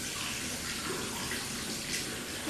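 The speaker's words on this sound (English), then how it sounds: "I'm just going to wet your hair down first before we apply the shampoo." Water runs steadily from a shower or tap over hair being wetted before shampooing, a continuous close hiss and splash with no talk.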